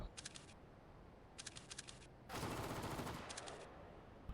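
Bursts of rapid automatic gunfire in a tactical shooter video game, with short crackling volleys separated by pauses and one louder, sustained burst in the middle.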